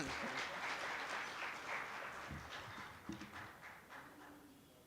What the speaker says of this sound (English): A warm hand clap.